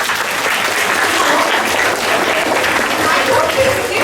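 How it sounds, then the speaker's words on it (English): Loud, steady applause from a school assembly audience of students, dense clapping continuing without a break for the full four seconds with faint voices underneath. "Okay, big round of applause."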